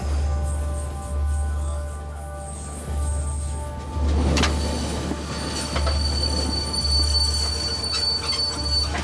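Katanga railway train crawling over warped, uneven track in Congo, its wheels letting out sustained high-pitched squeals and metallic screeches over a steady low rumble of the moving cars, loud and close, with no talking.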